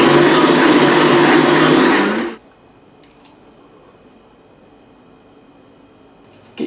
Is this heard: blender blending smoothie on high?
yes